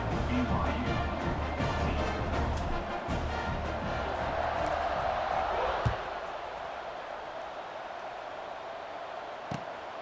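Stadium crowd roaring in EA Sports College Football 26 before a kickoff, a loud steady wash of cheering that drops to a quieter hum partway through.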